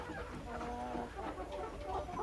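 Desi chickens and a rooster clucking together on a poultry farm, a steady, fairly close flock chatter running throughout with no clear crow standing out.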